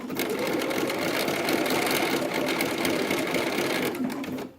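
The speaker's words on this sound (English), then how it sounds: "So I'm going to sew as close as I can up into here" A sewing machine runs steadily for several seconds, stitching a seam on a vintage petticoat slip, close and continuous with an even mechanical whir before stopping at the end.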